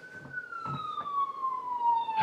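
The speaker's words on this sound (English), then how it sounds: "Hear the sirens? That's to wake you up." A police siren wails in a long falling sweep, loud and near, with a few faint thuds underneath.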